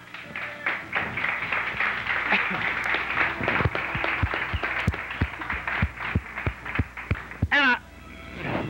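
A small audience at a dating game show claps for a guest bachelor, with scattered, uneven hand claps rising and thinning over several seconds while a voice talks underneath.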